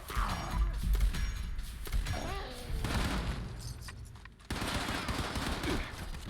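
Rapid bursts of gunfire from a Fallout 76 firefight, dense and loud throughout, with overlapping shots and booms forming a continuous fusillade.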